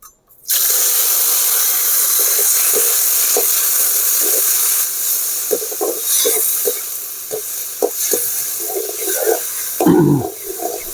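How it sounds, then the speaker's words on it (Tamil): Tomatoes dropped into hot ghee hiss loudly and keep sizzling steadily while being stirred, with occasional scraping and spattering bursts close up, and no voices. "அதே நெய்யில் இப்போ நம்ம தக்காளியை போட போகிறோம்."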